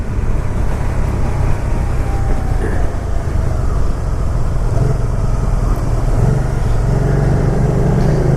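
A Can-Am Spyder RS-S three-wheeler engine drones loud and steady from the rider's position, with wind rush and a shift in engine tone partway through as it downshifts.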